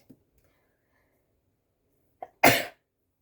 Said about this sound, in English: I'm going to sneeze, you guys.